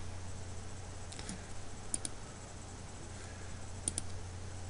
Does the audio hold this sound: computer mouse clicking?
yes